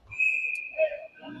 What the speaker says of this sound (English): we get an icing whistle